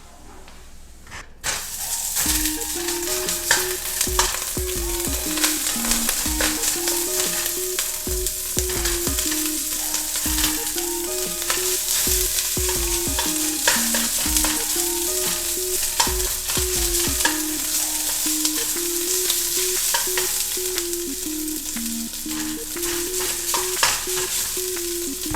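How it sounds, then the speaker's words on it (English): Cold rice stir-fries in sesame oil in a pot, giving a continuous loud sizzle with repeated scraping strokes of a utensil through nearly the whole stretch. "And then we're gonna add the cold rice to the pot."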